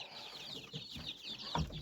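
Bantam chickens and chicks cluck and peep at a farm, a soft continuous chatter of small birds with a louder single call near the end, and nobody talks.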